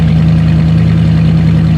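A waterlogged Buick engine idles and warms up, a steady loud low rumble with an even droning hum and no change in pace.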